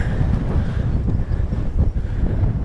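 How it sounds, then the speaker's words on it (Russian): Strong wind buffets the microphone on an open Mongolian steppe near Bayankhongor during a bicycle journey, a loud rumbling gusty roar that surges and dips throughout. "ну и ветер сегодня"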